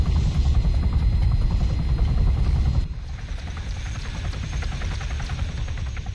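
A helicopter in the video game Arma 3 drones loud and close with a steady rotor buzz, then drops to a lower, more muffled hum partway through, with no voices.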